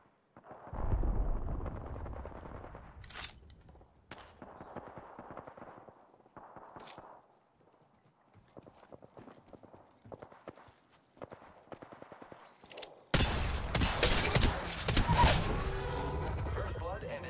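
Gunfire in the Apex Legends battle royale rings out as scattered sharp shots, then a loud, sustained burst of rapid firing near the end, with players talking over it.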